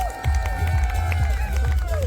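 An audience applauds a dance teacher at a furry dance event, sustained clapping and light cheering, with a low thumping beat underneath.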